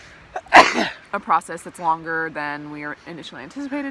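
A single sharp, close sneeze bursts out near the start, followed by a person speaking calmly.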